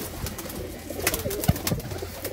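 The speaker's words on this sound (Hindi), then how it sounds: "ये देखें जरा, चेक करें कबूतर" Pet pigeons cooing softly in a home loft, a few low murmuring coos and faint wing or movement sounds, fairly quiet and close, with no talking over them.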